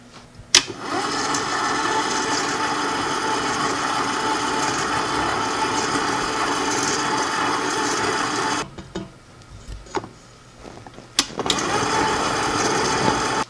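A stand mixer mixing dough for onion fried bakes runs with a steady motor whir close by, stops for a couple of seconds, then starts up again at the same level.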